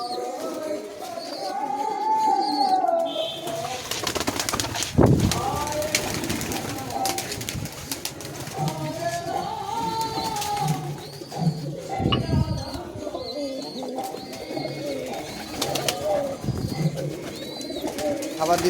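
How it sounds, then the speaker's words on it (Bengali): Many pigeons, high-flying Giribaz pigeons, coo repeatedly, close by and loud, while birds chirp and wings flutter now and then and people talk in the background. "অনেক পায়রা আছে দাদা।"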